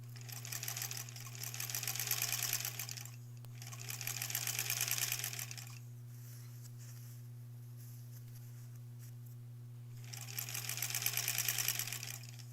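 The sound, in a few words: sewing machine stitching quilt border seam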